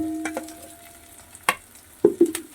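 Grated green chili dropped into a hot pan with eggs and cauliflower, giving a few sharp sizzling bursts and stirring scrapes over a low background hiss, with no talking.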